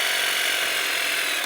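A DeWalt DCS334N cordless jigsaw runs with no blade fitted and nothing to cut, giving a steady high-pitched mechanical whir that holds at one level before cutting off abruptly at the end.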